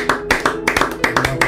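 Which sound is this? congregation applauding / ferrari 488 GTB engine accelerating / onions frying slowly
congregation applauding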